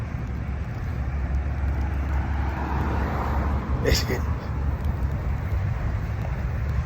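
A car drives along a road, a steady broadband rumble of traffic noise holding throughout with a brief brighter swell near the middle, while a person talks underneath.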